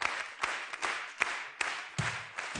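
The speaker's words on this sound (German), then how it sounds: "Bitte nochmal einen großen Applaus für unsere Weltfußballerin vom VfL Wolfsburg." Sparse, quiet hand claps ring out in a German television sports studio, a handful of sharp separate strikes roughly every half second rather than a full crowd ovation.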